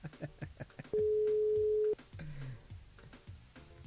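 A single steady telephone ringing tone lasts about a second on a live radio morning show as the host phones a guest, with background voices and music around it.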